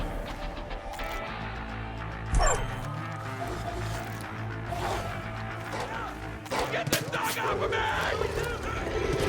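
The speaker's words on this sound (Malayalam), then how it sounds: "ദേ വരുന്ന പട്ടി." Companion dog barking in the video game Far Cry 5, several yips and barks over steady in-game ambience and music, with a sharp crash midway and talk running underneath.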